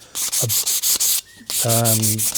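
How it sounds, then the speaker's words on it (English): Hand sanding of a wing root fairing on a Hawker Tempest warbird replica model aircraft. Several steady, close rasping strokes come in quick succession with short pauses between them. Faint low tonal sounds are heard in the background. "I'm going to just slightly sand that back down"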